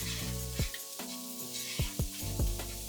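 Onions sizzling in hot coconut oil for a chickpea curry, a steady crackling fry with several clunks of a utensil stirring the pan, close and moderate.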